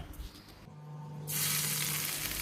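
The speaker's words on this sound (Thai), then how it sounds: "เริ่มจากการเจียวหอมแดงเพราะเราจะใช้น้ำมันกระเทียมเจียวด้วย" Shallots frying in hot oil for a Thai egg custard dessert, a steady close sizzle that swells suddenly louder partway through and keeps crackling continuously with no talking.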